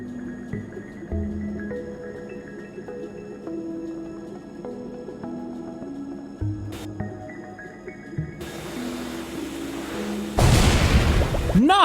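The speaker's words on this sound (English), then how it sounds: "Oh, that's a huge explosion." A huge video game explosion erupts as a loud, broad burst of noise near the end, after a stretch of layered game music and effects.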